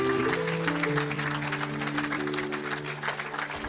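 A church congregation at a healing service applauds and acclaims the Lord, sustained clapping mixed with voices and rhythmic music throughout.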